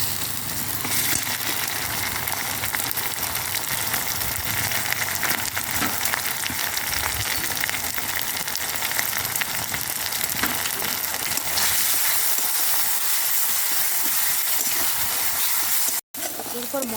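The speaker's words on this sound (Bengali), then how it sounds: "এরপর এর মধ্যে আমরা কুচনো পেঁয়াজ দিয়ে হালকা ভেজে নেব।" Chopped onions and ground spice paste with turmeric and salt frying in a pan for village-style mushroom curry: a loud, continuous hissing sizzle throughout, easing slightly near the end with a brief dropout.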